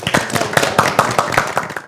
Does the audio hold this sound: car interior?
no